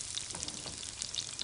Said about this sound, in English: Oh, I love the sound of the sizzle.